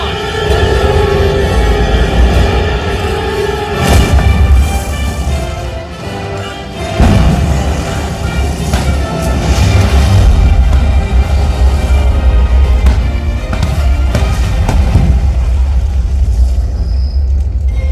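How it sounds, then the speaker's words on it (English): A staged fuel tank explosion effect on a Universal Studios Hollywood theme park ride gives loud, continuous rumbling roars with heavy booming surges near the start and middle, then sustained thunder. "That fuel tank's gonna blow."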